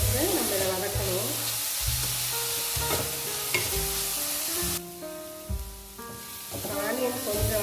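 Onions sautéing to golden brown in a pan for bread chilli give a steady sizzle with stirring throughout, under tonal background music that drops away briefly partway through.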